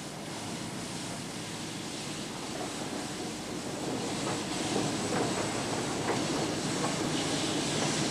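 Steam locomotive working on an industrial railway, a continuous loud broadband roar with faint rhythmic rail clatter, building slightly in level midway through as the engine runs nearby.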